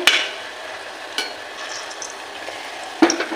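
Lalmohan sweets fry in oil over low heat with a soft, steady sizzle, broken by a few sharp utensil clinks near the start and end.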